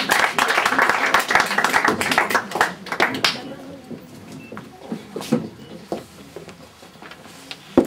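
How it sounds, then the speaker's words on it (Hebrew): Audience applause at a recital concert, dense clapping for about three seconds that thins into scattered claps, with a voice speaking over the tail. "מחיאות כפיים."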